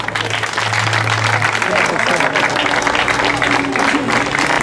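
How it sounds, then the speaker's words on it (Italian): A crowd applauds at the prize ceremony of a downhill speed race in Zagarise, steady loud clapping that runs throughout and blends with a low hum and crowd noise. "un applauso di incoraggiamento"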